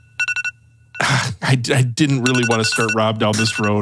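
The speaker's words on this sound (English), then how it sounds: "that's the alarm" An electronic alarm rings in a quick burst of four or five bright, evenly spaced pulses, loud and close, then stops as people start talking over the silence it leaves.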